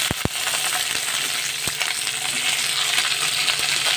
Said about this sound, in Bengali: এবার আমরা এর মধ্যে দিয়ে দেবো যে ক্যাপসিকামগুলোকে কেটে রেখেছিলাম সেই